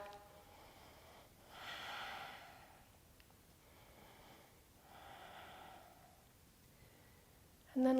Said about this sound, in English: Nice, easy breath.